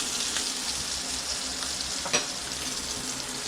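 Steak and scallops fry in a hot pan, giving a close, loud, continuous sizzle with one brief clatter partway through.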